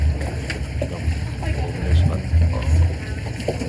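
A motorboat engine drones low and steady on a river at a floating market in Thailand, swelling in a few pulsing surges with water wash around it.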